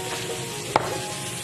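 Salmon frying in hot oil, a steady close sizzle with one brief sharp pop or clatter midway through.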